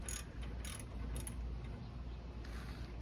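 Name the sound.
ratchet tightening rear strut on Scion xB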